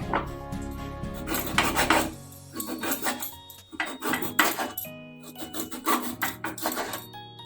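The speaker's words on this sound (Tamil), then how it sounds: "இந்த மாதிரி சக்கரவள்ளி கிழங்க ரவுண்ட் ரவுண்டாக கட் பண்ணி எடுத்துக்கிட்டேன்" Sweet potato is sliced into rounds with a knife, heard as close rasping cuts and knocks on a board in several separate bursts with brief quiet gaps and no talking.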